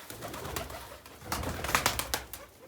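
Pigeons cooing indoors in a room where they roost, a steady run of soft repeated coos close by with some wing and shuffling noise, no talk.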